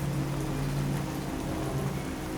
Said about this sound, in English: And you were met with the sound of rain.